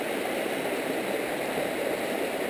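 Shallow creek water runs over low rapids near a beaver dam, a close, steady hissing and gurgling rush at an even level with no talking.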